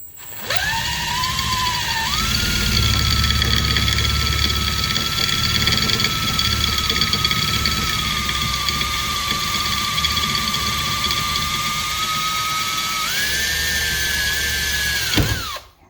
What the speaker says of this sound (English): And we're just really gonna start slow to start that drill bit.